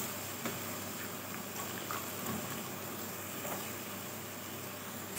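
Chili and mixed vegetables sizzle and bubble in a pan while vegetable gravy cooks, giving a steady, close hiss with soft popping throughout and no talking.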